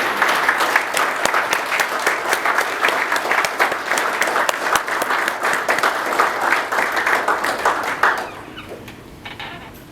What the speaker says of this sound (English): please rise and honor our retirees with another round of applause.